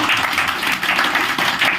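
A crowd at a motivational meeting bursts into steady applause, many hands clapping continuously at moderate volume for under two seconds.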